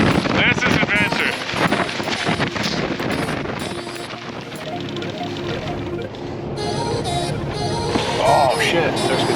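Wind gusting at around 90 miles an hour across a mountain summit roars and buffets the microphone in heavy, continuous rumbling bursts, with people talking under it.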